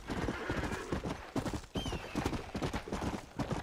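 Wild horses in the Red Dead Redemption video game, with hooves clip-clopping steadily and a horse neighing partway through, fairly loud and close, accompanied by faint background game sounds.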